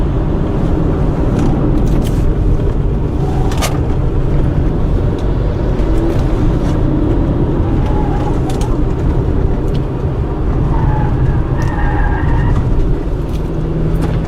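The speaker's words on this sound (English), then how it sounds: "Noisy tires, however." Tire and road roar inside a 2014 Subaru Forester driven on the highway, a loud, steady low rumble with a broad hiss that persists throughout, with no talking.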